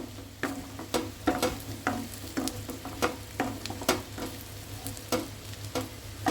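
Raw prawns sizzling in a hot pan while being stirred, a steady frying hiss broken by regular scraping strokes of a spatula roughly every half second, close up, with no speech.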